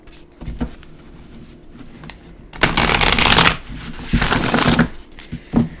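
A new Angel Number oracle deck is shuffled by hand in loud, close bursts of riffling card noise, with softer handling between the flurries and no talking.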